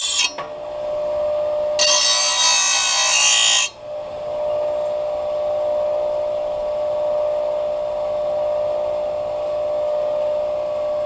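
Metal grinding on a grinder during a John Deere L series mower deck replacement, a loud close steady whine with a brief harsher burst of contact near the start, running alone without talk.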